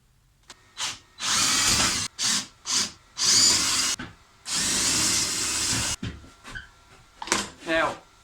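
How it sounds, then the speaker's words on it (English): A power tool cuts slots for the lead screws in a 3D printer build, running in a series of short loud bursts with gaps between them. "Now we need to cut in the slots for the lead screws."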